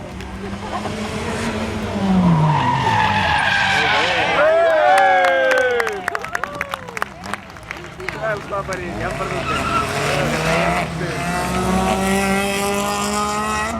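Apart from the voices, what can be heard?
rally cars racing past on a rally stage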